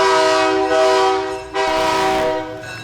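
A loud, sustained horn-like whistle blasts continuously at a Veterans Day parade, briefly dipping once before sounding again, steady and close with no talking.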